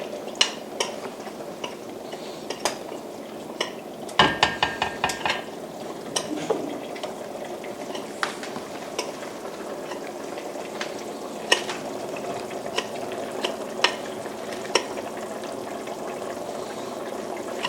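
Nokedli dough dropping into a pot of water while being stirred, with faint scattered clinks and taps from utensils and a burst of rapid clatter near the middle over a steady low background hiss.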